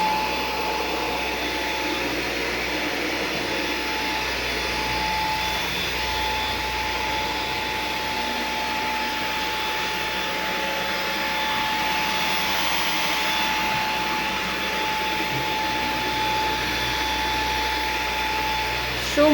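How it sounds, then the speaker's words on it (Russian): A Samsung VS20T7532T1 cordless vacuum cleaner runs indoors with a steady, even whine and airy rush that holds from start to finish without a break. "И теперь я одной рукой буду пылесосить."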